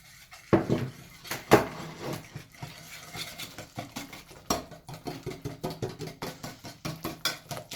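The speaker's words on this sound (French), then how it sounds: "Donc là, je touille bien." Brownie batter of flour, egg and sugar stirred in a bowl, giving repeated rhythmic scraping and clinking strokes of the utensil against the dish, a few louder knocks early, then a steady close cadence with no talk.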